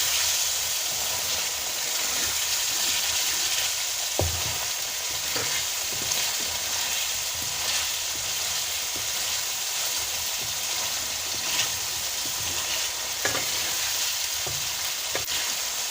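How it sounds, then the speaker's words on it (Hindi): Chicken liver and gizzard karahi frying in a wok, a constant loud sizzle and hiss with occasional stirring clicks and scrapes over a long unbroken stretch. "बस इसको हम 1 मिनट तक के लिए और भूनेंगे"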